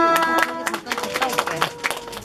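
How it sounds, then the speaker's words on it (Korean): Parents clapping at a kindergarten graduation ceremony, scattered hand claps in a room alongside a sustained musical tone and some voices. "자, 박수 쳐주세요."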